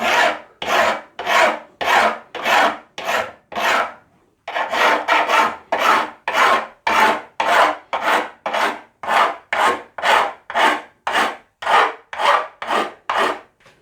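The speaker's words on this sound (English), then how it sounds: "we'll just do that by running a file over them at ever so slight angle" A metal file rasps steadily over the frets of a Les Paul Junior guitar neck, about two dozen even back-and-forth strokes with a brief pause partway, close and clear with no talking.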